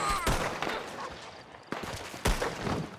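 Gunfire in the roleplay game Diablo RP during a shootout: three sharp, loud shots spaced across a few seconds, each followed by a short ringing decay, with faint voices in the background.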